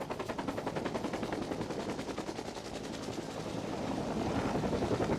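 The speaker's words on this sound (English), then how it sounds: "That's the helicopter that we came in." A helicopter's rotor thumps steadily with a rapid chopping rhythm, loud and close, growing slightly stronger toward the end.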